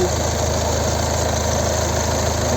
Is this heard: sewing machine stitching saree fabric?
no